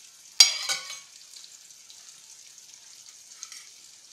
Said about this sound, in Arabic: هلا رح نترك السمك يتقلى منيح عشان نحضر الصوص